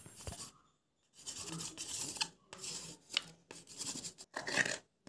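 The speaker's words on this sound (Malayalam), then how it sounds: "നമുക്ക് മാർക്ക് ചെയ്തിട്ട് കട്ട് ചെയ്ത് കൊടുക്കാം" Scissors cut through a piece of cardboard while making a paper elephant, giving several short crisp snipping and rasping strokes separated by small gaps, close and fairly quiet with no talking.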